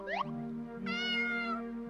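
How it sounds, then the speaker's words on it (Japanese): A black cat in a horror video game meows once, a short rising cry followed by a longer, bright, drawn-out meow, heard alone and close. "うるさいな。黒猫だ。"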